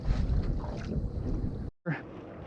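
Wind buffets a microphone out on a river, a loud rough rush with gusty low rumble, cutting out briefly to near silence before gusting back.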